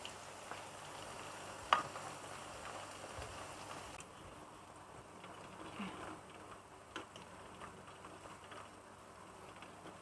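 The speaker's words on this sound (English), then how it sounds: "I start to deep fry the chicken." Chicken deep frying in hot oil gives a steady, faint sizzling hiss throughout, with a few small clicks and pops, and no talking.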